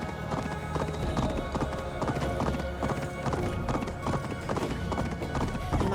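Horse hooves clip-clop in a steady, even walking rhythm in the video game Assassin's Creed Discovery Tour, loud and close, over a low ambient bed.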